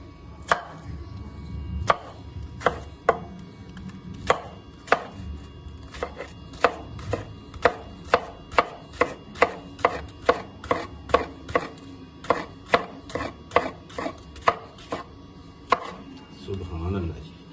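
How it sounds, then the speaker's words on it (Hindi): A knife chops a peeled cucumber on a cutting board, about thirty crisp, sharp knocks in a fairly even rhythm, close and clear with no talking. "अब इसकी हम कटिंग करेंगे,"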